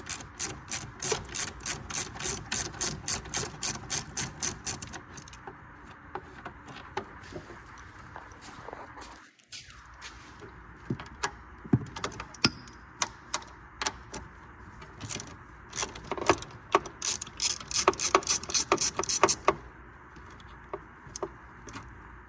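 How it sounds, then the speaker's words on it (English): Ratcheting wrench clicking on 10mm fan shroud bolts of a 1999 Ford Ranger, rapid bursts of close metallic ticks in quick runs with short pauses, alone with no talk. "we've got a ratcheting wrench here that I'm going to be using"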